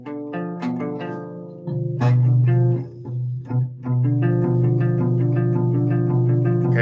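Guitar chords strummed and left ringing, a diminished triad heard as a few sustained chord hits with clear harmonic tones, played alone without talk.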